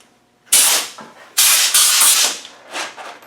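Compressed air from an air gun blasts in several loud, close hissing bursts of varying length, blowing gearbox bolts dry, with brief quiet gaps between bursts.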